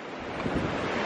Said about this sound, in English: The wind's blowing at 20 miles per hour. We've had gusts up to 22.